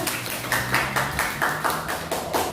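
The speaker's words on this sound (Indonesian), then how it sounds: "Kasih tepuk tangan dulu anak-anak" Children in a classroom clap in a loose, uneven rhythm, a run of distinct broadband claps over a faint background hum, fairly close and moderately loud.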